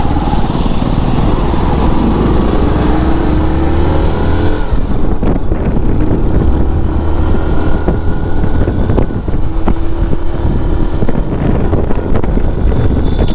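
A 2025 Hero Glamour 125 motorcycle engine runs steadily during a test ride, giving a continuous loud low drone mixed with heavy wind rush, with slight shifts in pitch as the bike moves along.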